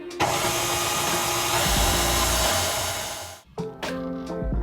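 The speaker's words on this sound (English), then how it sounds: "And blend it up again." A blender runs steadily, blending pumpkin cheese Danish filling after tapioca starch is added, a loud continuous motor whir that stops abruptly near the end and then briefly restarts.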